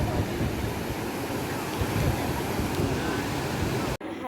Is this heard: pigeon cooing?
no